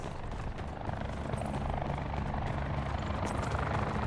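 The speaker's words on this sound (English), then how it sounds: "That's a helicopter." A helicopter flies in the video game Call of Duty: Black Ops 4, its rotor throbbing loud and constant close overhead.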